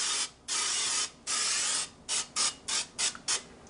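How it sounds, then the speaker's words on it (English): Extra light olive oil misted from a pump sprayer onto a griddle's sear plate: several loud, close hissing bursts, two long sprays followed by quicker short spurts in a steady rhythm, with no voices. "I'm just going to spray the sear plate down here with my extra light olive oil"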